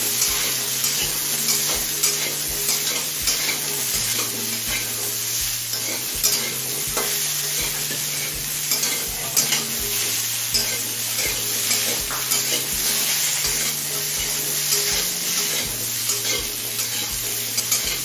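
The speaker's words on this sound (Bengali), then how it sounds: "এবার এই ডাঁটা আর আলুটাকে কিছুক্ষণ ভেজে নেব।" Vegetable stalks and potatoes fry in a pan with a constant loud sizzle, broken by regular scraping stirs of a utensil against the pan, with no talking.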